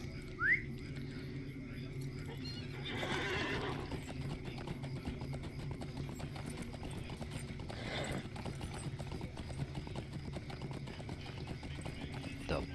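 Horse hooves clip-clop steadily through the LOTRO fantasy game soundtrack, a moderate rhythmic trot under ambient game noise, with a brief whistle near the start.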